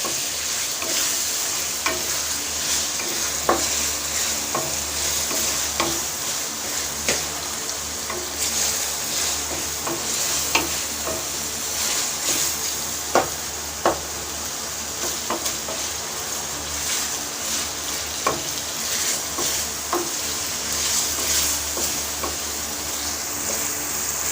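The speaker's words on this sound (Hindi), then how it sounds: "अब हम इसके अंदर 1 चम्मच कसूरी मेथी डाल देंगे और इसको अच्छी तरह मिक्स कर लेंगे।" Chicken liver fries in a pan as kasuri methi is stirred in. A loud, continuous sizzle runs under frequent, irregular spatula scrapes and clicks, with no voices.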